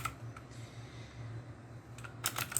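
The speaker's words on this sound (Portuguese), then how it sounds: "Vou digitar aqui novamente" Keys clatter on a computer keyboard in a short burst of typing, light quick clicks up close, ending in a faster cluster of taps, with no one talking.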